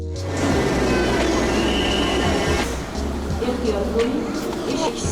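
A Soviet-built metro train in Tashkent rumbles loudly along the track, with a steady low roar, clattering wheels and a faint metallic squeal rising partway through.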